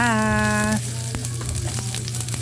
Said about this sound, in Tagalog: So simulan na po natin ang ating pagigisa.